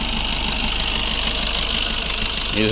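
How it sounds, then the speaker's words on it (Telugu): The diesel engine of a 2018 Maruti Swift Dzire VDI idles steadily nearby with an even, knocking chug and no change in pace; no talking. "ఇంజన్ సౌండ్ కూడా చాలా నీట్ కండిషన్ ఉంది"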